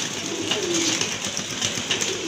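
Exhibition pigeons coo softly and continuously at close range, a low murmuring warble under a steady background hiss, with no voices.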